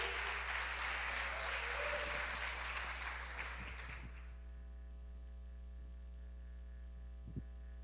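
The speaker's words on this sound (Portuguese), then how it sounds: "quero que vocês recebam com alegria e com palmas" A church congregation claps for about four seconds, then the applause fades out, leaving a steady electrical mains hum and a few faint knocks.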